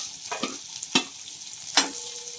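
Onion added to garlic frying in a pan, a steady close sizzle broken by a few sharp stirring scrapes and clatters of the spatula, no talking.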